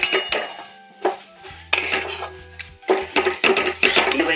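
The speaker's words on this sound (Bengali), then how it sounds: "এই যে আমি নারকেলটাকে গুড় দিয়ে এরকমভাবে জাল দিয়ে দিচ্ছি।" Grated coconut cooks with jaggery in a pan, a spoon scraping and clinking against the metal in quick irregular strokes, with a low hum underneath.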